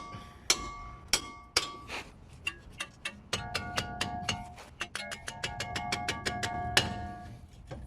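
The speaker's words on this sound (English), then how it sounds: "Hammer that more." Repeated sharp metallic hammer strikes on a front lower ball joint of a 2015 Toyota Corolla, ringing with a bright clang, in an irregular series that quickens toward the end.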